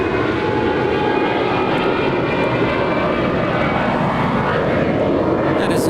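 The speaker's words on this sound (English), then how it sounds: "that is an ABX Air Boeing 767 departing to Phoenix." An ABX Air Boeing 767 departs LAX at night, its jet engines making a continuous loud, rumbling roar across the whole stretch.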